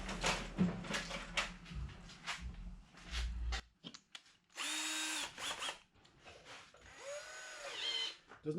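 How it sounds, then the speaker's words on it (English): Power drill boring a single hole through a piece of metal during a Sanyo 20EZ arcade monitor repair: close, loud whining bursts that start and stop several times, with higher-pitched spin-ups and brief pauses between runs. "We're going to drill a hole in this piece of metal right here and just mount it to that"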